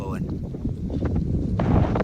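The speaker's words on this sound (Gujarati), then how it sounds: "પવન ફૂલ ઉડે છે એટલે ખાતર નખાય નહીં અત્યારે." Strong wind sweeps across an open farm field, buffeting the microphone with a low, uneven rumble that swells in gusts while someone talks over it.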